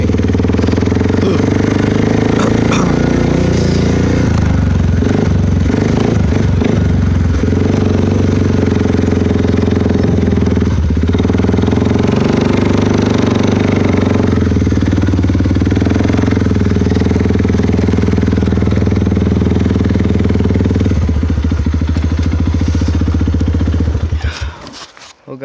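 A 2012 Suzuki KingQuad 400 ATV fitted with an HMF exhaust runs loud and close for the whole stretch, its rough, throbbing engine note rising and falling through riding before fading at the end.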